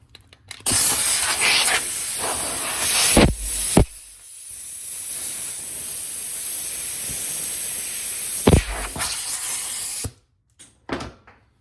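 Compressed air from an airline is blown through the brake hard lines of a BMW E30, producing loud hissing blasts with sharp start and stop bursts, a longer steady rush in the middle and brief puffs at the end.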